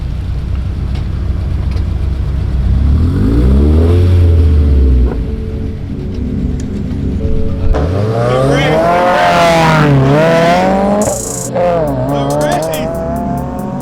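Dodge Hellcat cars racing, engines revving hard with rising and falling roars, a deep low surge and then loud high-pitched acceleration sweeps close by, with people talking over it.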